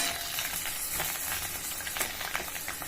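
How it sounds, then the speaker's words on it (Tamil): Eggplants sautéing in oil over a low flame for a kathirikai kuzhambu, giving a steady, soft sizzle and crackle throughout with small pops, close and fairly quiet, with no talking. "சிம்மில் வச்சு நல்லா வதக்கி எடுத்துடலாம்"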